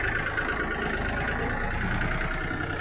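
Jivo 365 DI 4WD tractor engine working a rotavator at about 2000 rpm, a steady close rumbling drone with a constant mechanical hum, no talk.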